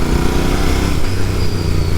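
Royal Enfield Bear 650 motorcycle engine running steadily while riding, a continuous close, loud low drone with wind rush and no noticeable revving changes.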